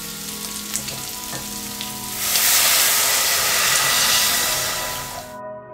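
Soup stock poured into a hot pan of fried onion and garlic for kimchi soft-tofu soup, the steady sizzle swelling into a loud, broad hiss as the liquid hits, then easing off before cutting out.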